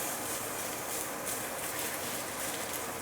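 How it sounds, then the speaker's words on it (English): A kitchen exhaust fan in a New York apartment roars with steady broadband noise, loud and constant throughout, with no voices over it. "And we gotta turn on a fan."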